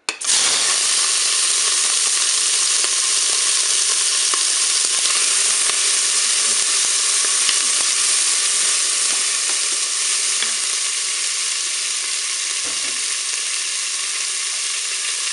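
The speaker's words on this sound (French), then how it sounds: "mon huile est chaude, je vais pouvoir mettre mes crevettes" Shrimp frying in hot oil inside a Cookeo multicooker, a steady, loud, close sizzle and hiss that runs unbroken throughout with faint stirring clicks and no talk.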